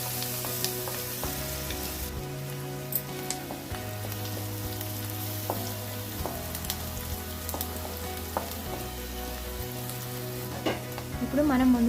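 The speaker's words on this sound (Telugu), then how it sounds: "ఆనియన్స్ బ్రౌన్ కలర్ వచ్చే వరకు ఫ్రై చేసుకోవాలి" Onions with green chillies and turmeric frying in a pan for chicken mango curry, giving a steady, loud close sizzle throughout with a few light stirring scrapes and no voices.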